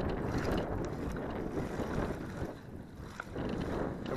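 Wind sweeps across open water around a small bass-fishing boat, a steady close roar of gusts buffeting the microphone with no break.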